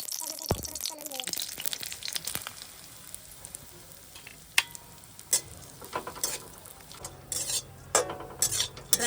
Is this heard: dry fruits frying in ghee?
yes